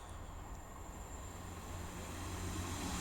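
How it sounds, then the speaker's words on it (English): A Class 158 diesel passenger train passing close by outdoors, a dense roaring rumble that builds gradually in loudness, with a thin high whine running through it and no voices. "So, I'll just wait for this train to come past."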